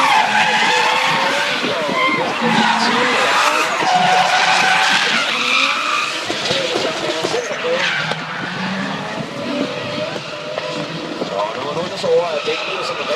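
A drift car with a 200Z engine skids around the Jyllands-Ringen race track, its tires squealing and engine roaring loudly and continuously, with commentary spoken over it throughout.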